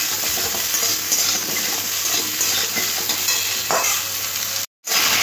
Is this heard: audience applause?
no